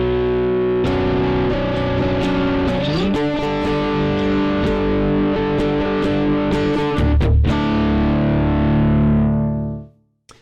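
Distorted electric guitar chugging power chords, bars 9 to 11, thick and loud with a few chord changes, then ringing out and cutting off near the end.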